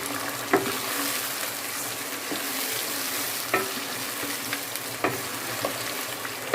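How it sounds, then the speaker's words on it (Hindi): Chicken pieces sizzle steadily with fried onions in a pan, a close, constant crackling hiss broken by occasional sharp clinks and stirs. "हमारे प्याज भून चुके हैं, और हम शामिल करेंगे इसमें चिकन।"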